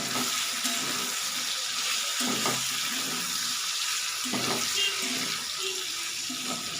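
Prawns and potatoes crackling in a pan as the lid comes off and the mixture is stirred, a broad, steady hiss broken by a few dull scraping thuds of the spoon, no speech.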